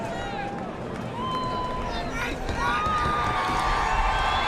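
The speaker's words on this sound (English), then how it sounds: "An incredible crowd on hand here, and they show Martin Truex Jr. their appreciation." A large grandstand crowd at a NASCAR race at Las Vegas Motor Speedway cheers after a burnout at the start-finish line. The roar is loud, broad and continuous, with whistles rising through it.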